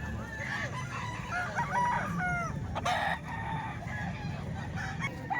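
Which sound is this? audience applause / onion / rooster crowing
rooster crowing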